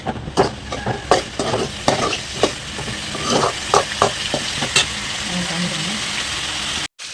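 Tomatoes sautéed in oil in a home kitchen, a run of close, rhythmic spatula scrapes and taps over a low sizzle that thin out toward the end.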